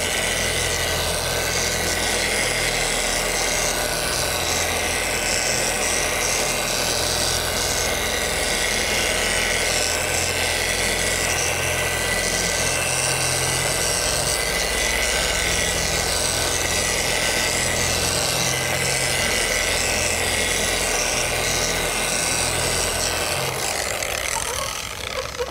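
A power polisher runs at low speed, buffing rubbing compound on a Z28 Camaro body panel, giving a continuous, loud, close whirring drone that holds steady and eases off near the end.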